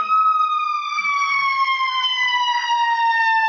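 A loud, steady electronic siren wails alone, its pitch gliding slowly downward throughout, with no talking.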